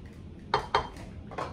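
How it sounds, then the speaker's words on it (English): A spoon quickly stirs smashed potatoes with black pepper in a bowl, giving three or four short scraping clinks of utensil against dish, close and fairly quiet, with no talking. "you just want to give that a quick stir"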